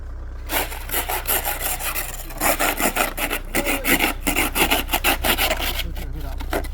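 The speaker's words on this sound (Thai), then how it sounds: "นี่นะครับเครื่องมือทำความสะอาดรถครับผม ก็ขูดรถก่อนครับ" A hand scraper rasps repeatedly across snow and ice on a car's surface in a wintry Swedish setting, a close, steady series of rough scraping strokes with no talk.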